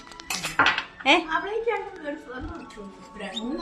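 Plates and cutlery clink and clatter close by in a family home kitchen, in a few sharp bursts as people talk over them.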